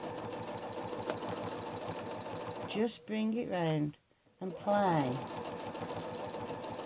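A domestic sewing machine with a ruler foot stitches in a fast, steady, close mechanical rattle. A person talks over it briefly, and the machine stops for a moment before it resumes.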